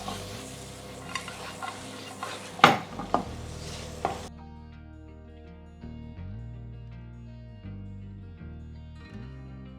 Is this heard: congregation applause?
no